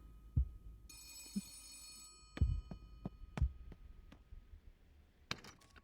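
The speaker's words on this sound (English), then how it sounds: "Suddenly the phone on the stall's desk starts to ring." A desk telephone rings in the video game Gerda, a short burst of bright bell tone followed by several sharp thuds and clicks in an otherwise quiet room.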